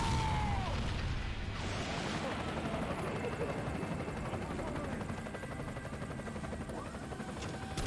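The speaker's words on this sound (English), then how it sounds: "Helicopter." Helicopter rotor noise from the Resident Evil 4 video game, a dense continuous low thrum and chop that stays loud and steady throughout, with game effects layered over it.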